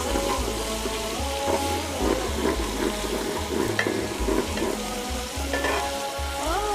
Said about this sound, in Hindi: लहसुन अदरक के पेस्ट को भी बस तकरीबन 2 मिनट के लिए फ्राई करना है हमने